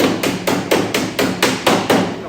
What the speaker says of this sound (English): Don't try to just hammer it down all at once.